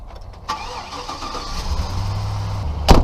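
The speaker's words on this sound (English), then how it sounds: "I start it and let it warm up for a minute before I take off." Engine of a '67 Chevrolet C10 pickup with 500,000 miles cranks over and catches, then settles into a steady low idle rumble, close and loud, with a sharp clunk near the end.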